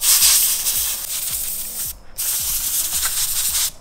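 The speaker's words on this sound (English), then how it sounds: "let's hit it with a duster because this thing is nasty" A can of compressed air duster sprays in repeated bursts at the dirty grates of a Gen 5 Whipple supercharger intake on a Camaro, giving a loud, steady hiss that stops briefly midway. Low thumps sound under the spray.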